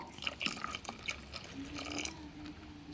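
Cow urine poured into water for a homemade insect repellent gives soft splashing and dripping trickles, close and fairly quiet, over about three seconds.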